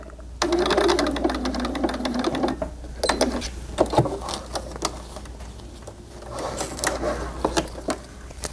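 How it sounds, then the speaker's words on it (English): A sewing machine backstitches denim for a doll-sized jumpsuit, its needle clattering in steady fast runs that stop and restart several times, close and moderately loud. "I'm just going to sew underneath it to make sure it doesn't pop off"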